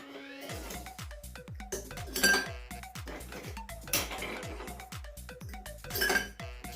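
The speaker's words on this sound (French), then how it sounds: "je vais utiliser un verre à bière dans lequel je vais mettre quelques glaçons" Ice cubes dropped one after another into a beer glass while preparing a vodka cocktail, a close run of bright clinks and knocks in an uneven rhythm with louder rattling clusters, no talking.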